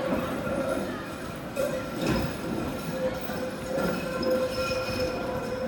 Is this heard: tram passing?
yes